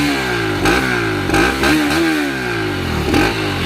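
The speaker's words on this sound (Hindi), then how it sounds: "एक बार एग्जॉस्ट साउंड सुना दो" A Bajaj Pulsar RS 200 motorcycle exhaust is revved repeatedly from idle, with three or four sharp rising and falling throttle blips over a steady burbling idle, loud and close.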